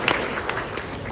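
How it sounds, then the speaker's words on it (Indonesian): A graduation ceremony audience claps in a brief, fairly dense burst of applause, heard alone for about a second. "Tepuk tangan untuk saya."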